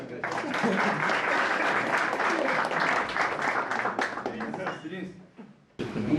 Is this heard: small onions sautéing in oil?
no